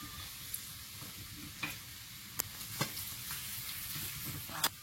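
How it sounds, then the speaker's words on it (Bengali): Chicken meat, a country hen, frying in oil in a pan, browning with a steady soft sizzle and occasional sharp clicks and scrapes of stirring, close and moderately quiet. "ওটা সুন্দর করে ভেজে নিচ্ছি লাল লাল করে।"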